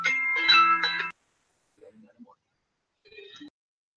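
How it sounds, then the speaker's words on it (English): Telephone ringing with an incoming call, a bright electronic ring tone that sounds loudly for about a second, followed by a short pause and then a fainter chirp of the same tone. "There's the phone call."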